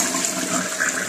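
A toilet with a partial clog is flushed, giving a loud, close rushing swirl of water that holds steady and fills the short stretch alone.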